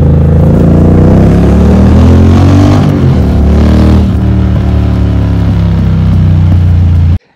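Triumph 660 Daytona motorcycle with its stock exhaust, started up and revving: a loud, steady engine note that swells and falls across several seconds, heard alone and cut off abruptly at the end.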